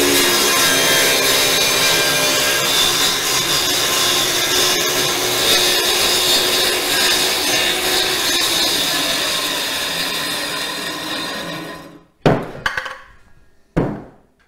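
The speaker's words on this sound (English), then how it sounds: "There is a cut in the center of a board, and we'll call that a plunge cut." A circular saw makes a plunge cut through a board, running as a loud, steady whine for about twelve seconds. It then winds down and stops, followed by a few sharp clunks.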